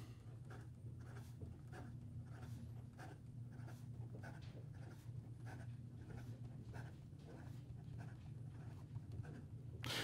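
A Penlux Delgado Euploea fountain pen writing quickly across paper, a steady run of short scratchy strokes in a quick even rhythm, close and faint over a constant low background hum.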